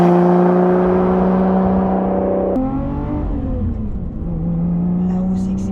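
A Lotus Evora GT410 Sport drives with its engine droning loudly and steadily. Partway through, a gear change drops the pitch, and then the revs climb again while someone talks over the sound.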